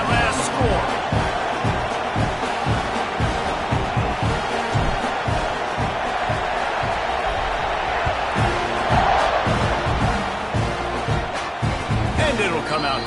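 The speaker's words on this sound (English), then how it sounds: "this crowd is buzzing after that last score" A football stadium crowd buzzes steadily after a touchdown in a Canadian football game, a loud continuous roar with scattered shouts and thumps and a play-by-play voice talking over it throughout.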